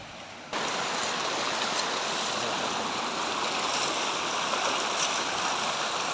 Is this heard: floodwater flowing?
yes